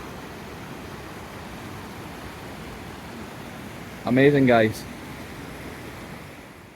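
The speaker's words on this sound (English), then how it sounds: "Down below there's the waterfall. It is really loud" Loud, steady rush of Brachlinn Falls waterfall in Scotland, heard from the bridge above, a continuous broadband roar throughout with a brief spoken exclamation midway.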